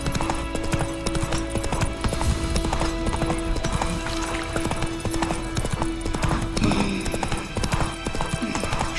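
Horse hooves pound in a steady galloping clip-clop as a rider travels on horseback in a video game, loud and continuous throughout.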